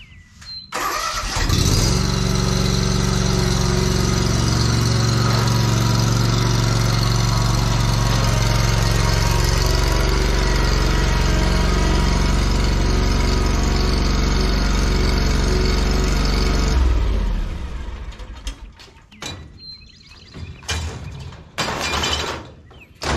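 A lawn mower engine starts and runs steadily and loudly for about fifteen seconds, close by, while the mower is loaded into the back of a 1989 Chevy K1500 pickup. It then cuts off and is followed by clanks and handling noises.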